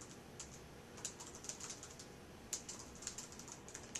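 Fingers type on a computer keyboard, a quiet, close series of irregular light key clicks with brief pauses between bursts.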